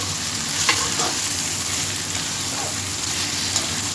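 About 50 grams of oil hits a pot for Hyderabadi mutton dum biryani, giving a loud, dense, even sizzle up close with a few faint clinks and stirring sounds.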